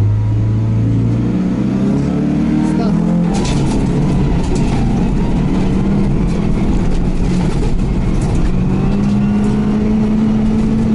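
Toyota HiAce van accelerating hard at the start of the final stage of the Mikawa Bay Rally, a loud, steady engine drone rising in pitch and holding near throughout with no talk.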